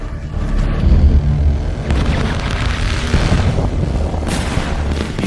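Thermite burns fiercely as it melts metal, giving a loud, continuous roaring crackle with rough bursts and popping throughout.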